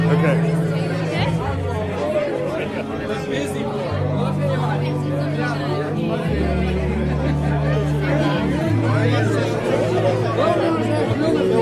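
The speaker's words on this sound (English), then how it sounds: "Now we're milling our way through the crowd here, and there's quite a good crowd." Dense, steady chatter of a large crowd, many voices overlapping close by with a low hum underneath, loud and constant throughout.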